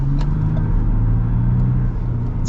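A 2026 Ford Ranger XLT midsize pickup with a V6 engine drives along, its steady low engine rumble and road noise continuous and close throughout, with no voices.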